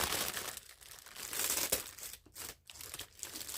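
Plastic packaging from a Temu haul being handled and opened, close crinkling and rustling with a few sharper crackles and brief pauses, no voices.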